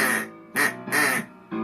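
Sung duck quacks in a song, three loud nasal quacks in quick succession followed by a softer fourth, bright and close like a vocalist imitating a duck.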